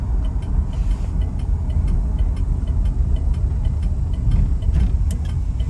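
1973 Chevrolet Chevelle driving down the road, its engine a steady low rumble and road roar heard from inside the car, continuous and fairly loud with faint ticking above it.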